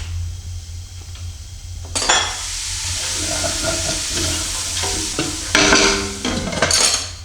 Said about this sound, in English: Let it saute very well.